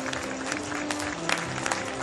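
Crowd applause along a carnival parade route, a fairly soft spread of clapping with a few sharper hand claps standing out, under steady background music and some crowd noise.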